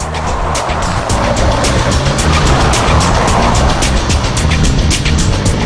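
A Citroën 2CV driven flat out in a straight line, then swerved sharply left or right; its engine roars loud and steady with road and wind noise throughout, no voices.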